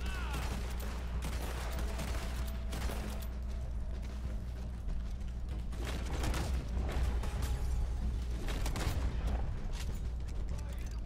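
Gunfire in a Red Dead Online gunfight plays on PC as dense, continuous volleys of shots and blasts, loud and sustained throughout with no real pauses.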